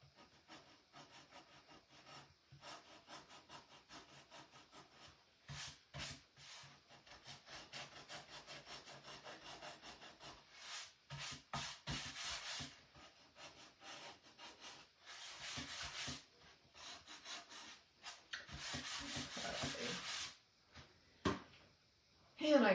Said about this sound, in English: Sand off the excess glue.